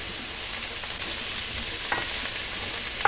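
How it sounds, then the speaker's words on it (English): Chopped onions and smoked bacon sizzle in a pot for venison chili, a dense steady frying hiss up close, broken by a few soft scrapes and knocks of stirring, with no talking. "We're going to let that cook down until it's soft and onions are translucent."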